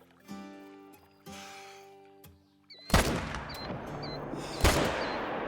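Rifle shots fired at a bull while hunting in Call of the Wild, two sharp loud cracks echoing across the landscape after a quieter stretch of tonal background sound.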